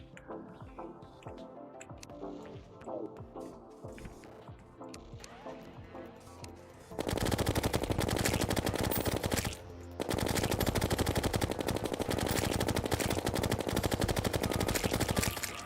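Rapid video-game gunfire in modded Terraria (tModLoader) using venom bullets: quiet, busy game sounds at first, then a loud, relentless stream of rapid shots that pauses briefly and resumes.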